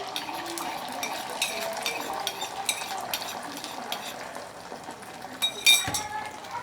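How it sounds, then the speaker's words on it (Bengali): Beaten egg seasoned with salt sizzles in a little oil in a pan, a close, steady hiss broken by a few clinks of a utensil against the metal, with a sharper clatter near the end. "ডিমটা দিয়ে দেবো।"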